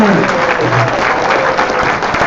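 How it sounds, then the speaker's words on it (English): Loud, continuous applause from a large audience of students and families at a high school sports awards banquet, thick steady clapping with faint crowd murmur. "give your parents a round of applause."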